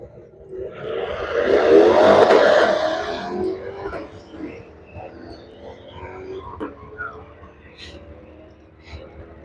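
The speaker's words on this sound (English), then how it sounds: "Got the Ford Falcon coming around and the Lincoln Continental" A Ford Falcon and a Lincoln Continental race cars come around the track at a drag racing event, their engine roar swelling loudly to a peak and then fading into a lower rumble while a voice talks over it.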